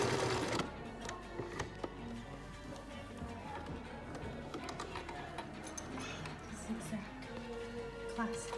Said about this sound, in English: Back stitch once more.